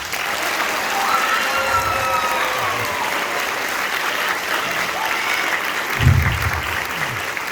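A crowd claps steadily for high school band students at an end-of-year 2022 concert, a dense, continuous wash of applause lasting the whole stretch with a slight swell near the end.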